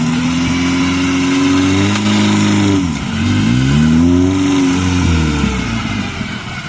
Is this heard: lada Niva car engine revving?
yes